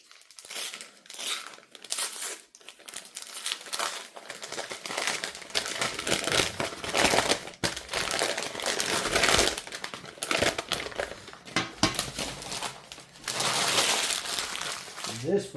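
Wrapping paper crumples and crinkles up close while cell phones are unboxed, a dense run of rustling, crunching handling noise that continues nearly throughout with brief pauses.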